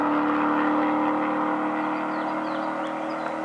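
Audi V8 Quattro engine holding a steady, loud droning rev with a strong low harmonic hum, continuous throughout and close by, no talking.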